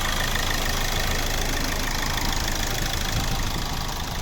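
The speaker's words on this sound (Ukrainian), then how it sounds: "Ось робота двигуна." A 2013 Hyundai i40 1.7 CRDi diesel engine idles steadily up close, a continuous low rumble with a slight knock, unchanging throughout with no voices.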